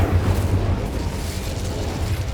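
The Incendio fire spell in Hogwarts Legacy, cast in a cave: a continuous roaring, whooshing blaze of flame, loud and close throughout, with no voices over it.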